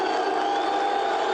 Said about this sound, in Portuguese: vaias, aplausos